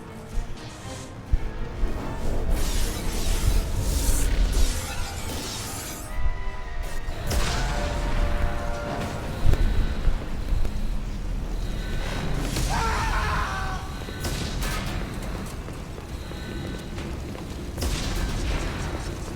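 A starship takes explosion hits in Mass Effect 2, with continuous low rumbling booms, crashing impacts and whooshing debris filling the scene, with almost no speech.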